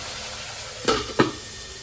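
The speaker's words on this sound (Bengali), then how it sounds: "কয়টা আলু ভেজে নিই" Potatoes sizzle steadily in leftover cooking oil in a pan, with two quick utensil clacks against the pan partway through.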